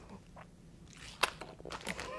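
Close, crisp crunching of nutty rice bite snacks: a soft bite, then one sharp crunch followed by a few quieter chewing crackles over about two seconds.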